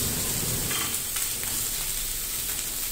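Mixed fried rice with beef, pork and chicken frying in a hot pan, a loud, dense, close sizzle with faint stirring scrapes, steady for a few seconds without talk.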